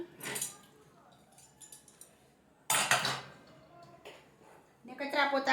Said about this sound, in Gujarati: હવે હું ધોઈ નાખું વાસણ